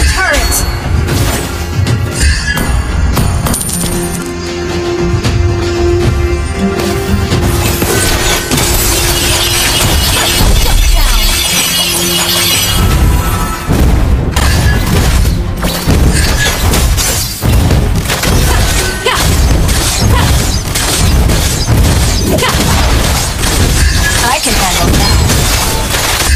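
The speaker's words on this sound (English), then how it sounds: "Our turret has been destroyed." A turret is destroyed amid a long stretch of game battle noise, with dense booms, shattering crashes and impacts piling up loudly and continuously, and game voice lines mixed in.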